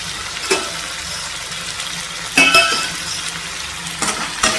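Brinjal and onions sauté in a pan under a soft, steady sizzle, with three scraping stirs of a spoon standing out at close range.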